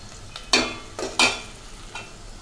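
Fish is frying in a pan with onion and green chilli, a low sizzle broken by three or four sharp scraping stirs, the sounds close and fairly loud, with no voices.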